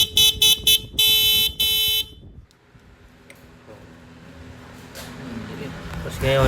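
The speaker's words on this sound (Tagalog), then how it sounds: "Ito yung stock horn ng Tiger 800." Stock horn of a Triumph Tiger 800 motorcycle, loud and close, beeped in several short blasts and then one long one before stopping, followed by quieter background noise.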